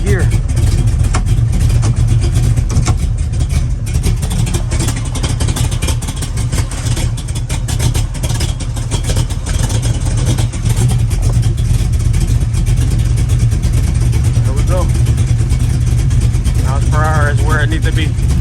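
A car engine runs loudly and steadily throughout, revving at times under a broadband roar, with a voice talking briefly near the end.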